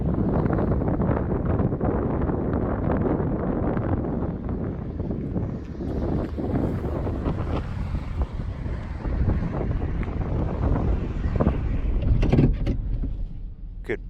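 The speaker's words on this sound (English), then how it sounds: "Could barely stand up out there, the wind's blowing so hard." Strong wind beside the Columbia River at The Dalles buffets the microphone with loud, continuous roaring rumble and gusts, swelling and easing over the length with a few thumps and rustles near the end.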